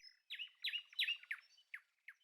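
Bird chirps in a quick series of bright, clear notes, fairly close and alone, with short pauses between the calls.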